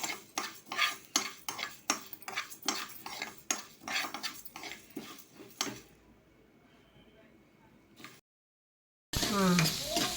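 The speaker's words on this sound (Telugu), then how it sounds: "ధనియాలు ఒక స్పూన్ జీలకర్ర ఒక స్పూన్ మెంతులు ఇవి దూరగా ఎంపుకోవాలి" Coriander seeds, cumin and fenugreek dry roasting in a pan while being stirred, with a steady run of quick metallic scrapes and rattles close by, then a quieter stretch and a brief cut before a louder burst.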